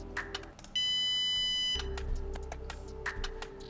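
A small buzzer on a Cytron Maker Pi RP2040 board sounds one steady, loud, high tone for about a second, then cuts off, surrounded by a few faint clicks and taps.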